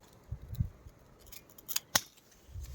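Pruning shears snip through a dry plant stem in a garden, giving a few sharp, close clicks and crisp cuts spread over a couple of seconds, fairly quiet overall.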